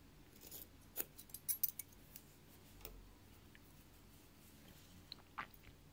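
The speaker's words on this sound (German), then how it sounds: "Ich schneide es immer circa so einen halben Zentimeter hinter dem Gewebe ab, damit nicht gleich die Schussfäden rausrutschen." Scissors snip warp threads to free a woven piece from a weaving loom, a few quiet, close, sharp cuts in irregular bursts over a hushed background.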